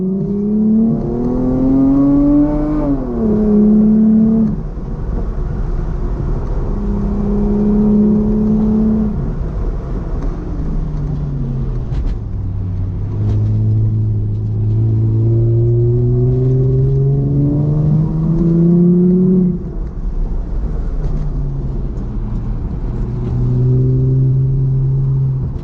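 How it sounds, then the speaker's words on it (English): A Chrysler Crossfire lapping a small race track, its engine droning steadily and loudly throughout, pitch rising under acceleration and dropping on each lift and shift, heard from close inside the car. "Crossfire is a pretty small car with relatively good handling"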